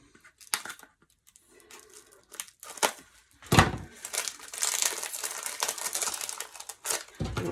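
Roll of Deco Mesh being cut open and unwrapped: scattered crinkles and plastic rustles, then a burst of loud crumpling and tearing of the wrapping that continues in bursts, close and alone.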